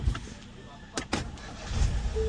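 A Ford Explorer engine cranks and fires up after a short click, settling into a low idle rumble, close and fairly loud, with someone talking briefly around it.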